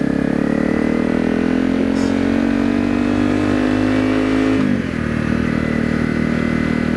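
A Honda CRF250L motorcycle with a Yoshimura RS-4 aftermarket exhaust idles with a deep, steady, throaty exhaust note, then the pitch drops slightly as it settles near the end.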